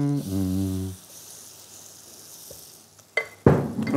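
A batter of grated potato, flour, melted butter and eggs goes into a hot pan and begins to sizzle after a tonal hum, with scraping and crackling frying noises building loudly toward the end.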